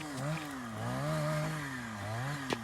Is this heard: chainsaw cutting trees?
yes